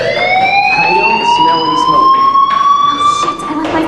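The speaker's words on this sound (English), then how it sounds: "do you hear that fire alarm?" A school fire alarm in the video game Life is Strange wails as a loud, continuous rising siren tone that fills the scene without pause.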